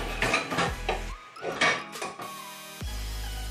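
Pots and pans clatter and clank in bursts as someone rummages through kitchen cookware, with metallic knocks, scrapes and a cupboard-like bang, close and fairly loud.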